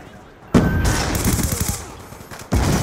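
Black Ops 2 gunfire in Domination mode comes as a sharp burst of rapid automatic shots, then a lull and another abrupt blast, loud and close, with game voice chatter mixed in.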